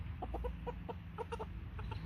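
An American Bresse rooster about 10 to 12 weeks old, molting, gives a quick series of soft clucks and short calls, faint against a low background rumble.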